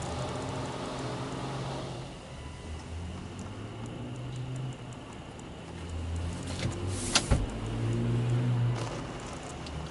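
A PDQ tandem automatic car wash at an Amoco station applies soap to a car, producing a steady mechanical hiss and hum with faint ticking and a brief sharp burst near the end, heard from inside the vehicle.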